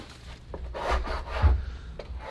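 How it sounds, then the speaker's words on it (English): Ice is scraped off wood during deck and pergola building outdoors in Canada: a couple of rough, close rasping strokes with a soft thump, brief and without talk. "He's scraping some ice off."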